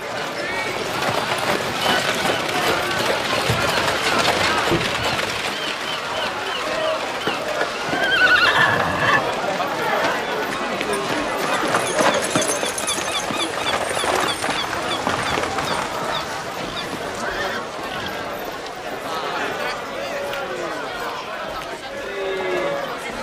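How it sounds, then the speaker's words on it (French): Horses of a horse-drawn carriage, a calèche, neigh and whinny amid steady clip-clop of hooves and rolling movement, loud and close throughout, with voices chattering underneath. "Bien la calèche, Bertuccio, bien"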